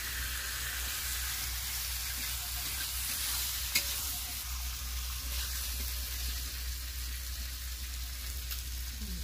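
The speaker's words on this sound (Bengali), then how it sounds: "মাখি তো মশলাটা ভালো করে।" Faint, steady sizzle of masala spice paste frying in a pan as it is stirred, a soft continuous hiss with an occasional light scrape, no talk.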